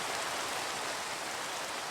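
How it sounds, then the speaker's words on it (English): Rain falls in the blocky sandbox video game Minecraft, Sky Factory modpack, as a steady, even hiss of dense downpour, loud and continuous with no pauses and no voices. "get rid of that rain"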